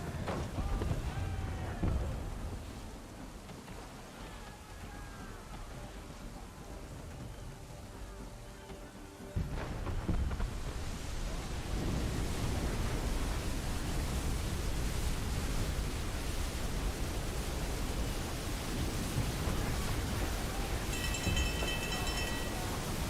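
A storm at sea rages in Assassin's Creed III, broadband wind and rushing water noise that jumps louder midway and stays heavy, with voices talking over it.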